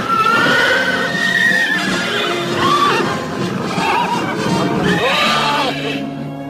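A cartoon fire horse gives several loud, close neighs and whinnies, with clip-clop hoofbeats mixed in and no talk.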